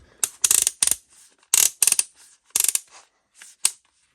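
The clutch ring on a Parkside PABS 20-Li E6 20V cordless drill turns through its torque settings, giving close, crisp plastic clicks in quick bursts of two or three with short pauses between them and no talking.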